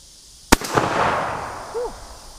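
One sharp, loud shot from a J.C. Higgins 583.20 bolt-action shotgun fired outdoors, a sudden crack followed by a rolling echo that fades over the next two seconds, with no talk.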